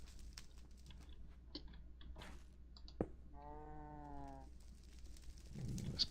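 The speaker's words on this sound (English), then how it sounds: "this cow is not going to want to be here" A single drawn-out cow moo from the Minecraft video game, close and clear against quiet background clicks and faint ambience, with no one talking.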